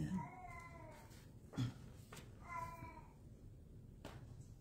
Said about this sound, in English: If you hear any yowling, it's because we're babysitting our grand cat, Simon